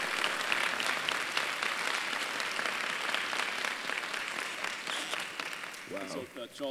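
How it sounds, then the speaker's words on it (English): A university audience gives a guest speaker in a presidential distinguished speaker series a round of applause, dense sustained clapping filling the hall before fading near the end as a voice begins to speak. "Please join me in giving another round of applause to Charles Blow."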